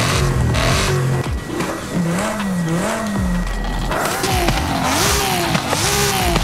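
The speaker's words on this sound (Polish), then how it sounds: "Standardowy silnik chyba zostawię, ładnie brzmi." A stock-engined BMW M4 in Forza Horizon 5 revs repeatedly, its pitch swooping up and down in wavering surges over road noise, with brief gaps between pulls and no talking.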